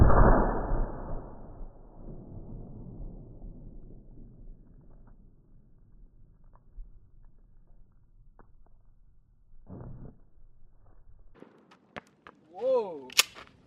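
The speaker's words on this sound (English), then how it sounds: "So let's shoot it with the buckshot" A shotgun fires military-grade nine-pellet buckshot into a row of pumpkins: one loud sharp blast at the start, its long decay fading over several seconds, followed by scattered knocks and a short voice near the end.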